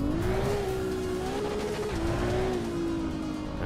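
A GTB race car in the Assetto Corsa EVO racing sim holds a loud, steady engine drone, its pitch rising and dipping slightly with a brief shift partway through, continuous and close.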